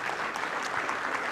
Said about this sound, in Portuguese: Vamos aplaudir ao Senhor Jesus, porque Ele merece.